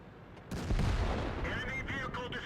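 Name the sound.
tank cannon fire in video game World of Tanks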